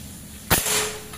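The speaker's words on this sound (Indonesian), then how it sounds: "Yuk tembakan pertama." A single sharp shot from an AK Lipat Army 60 cm PCP air rifle, 4000 PSI, cracks close and loud, followed by a short fading tail against quiet background.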